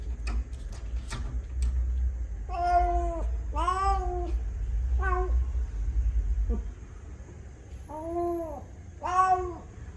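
A cat that grew up outdoors meows repeatedly at the door of a house to be let out. The cries are clear, close, drawn-out and insistent, spaced irregularly, over a low rumbling hum that stops partway through.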